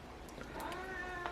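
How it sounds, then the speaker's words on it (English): A cat meows a few times at close range, short rising calls set against a quiet indoor background with no talking. "There's a cat here."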